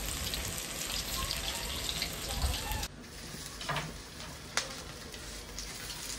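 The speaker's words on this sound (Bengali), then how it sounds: "দেখো চিংড়ি মাছের পকোড়া হচ্ছে এখানে।" Prawn pakoras frying in hot oil at a seaside food stall in Puri, a steady loud sizzle and crackle heard close up, with the bubbling shifting slightly midway.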